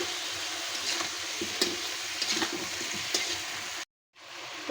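Pineapple pieces frying with spices and chili-sugar seasoning in a pan, a soft continuous sizzle broken by occasional scraping stirs, then a brief dead gap near the end before the sound returns.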